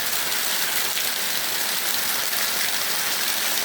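Steady, dense rain over Colombo, Sri Lanka hisses without a break, a constant wash of noise with no voices.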